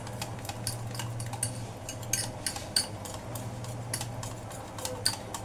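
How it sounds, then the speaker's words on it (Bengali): A spoon scrapes and clinks rhythmically against a bowl while thickened milk is stirred into malpua batter, with steady light ticking strokes and a low hum behind. "দিয়ে এবার এটা আমি ভালো করে গুলে নেব।"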